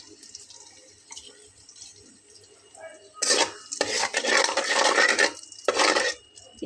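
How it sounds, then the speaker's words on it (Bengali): Turmeric and salt stirred into a generous amount of oil in a pan: quiet clinks at first, then loud bursts of hissing sizzle as the spoon works the oil, close and without speech. "একটু নেড়ে দিলাম"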